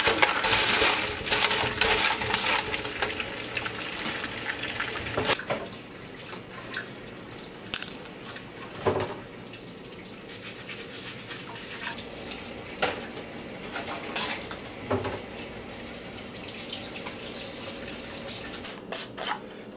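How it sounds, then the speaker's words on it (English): Tumbled rocks, including quartz, being washed under running water: a loud clatter and rush of stones and water at first, then quieter trickling broken by scattered clinks and knocks of rock. "now that we got the rocks all washed up"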